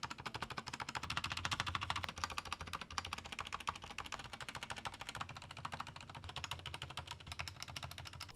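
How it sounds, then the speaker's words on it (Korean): Fast, steady typing on a Cherry MX Board 2.0S office keyboard with its feet folded flat, dense overlapping key clicks and thocks running continuously at a moderate level with no talk. "저는 타이핑 테스트는 다리를 접은 상태에서 테스트 해보도록 하겠습니다."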